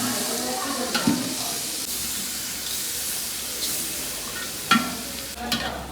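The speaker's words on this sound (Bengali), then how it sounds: "এদিকে সত্যজিৎ দা এখন নাড়তেছে, আমার হেল্প করে দিচ্ছে" Khichuri of rice and lentils with spices being stirred in a pot over a clay stove, a steady close scraping and bubbling hiss with a couple of sharper clanks of the spoon against the pot.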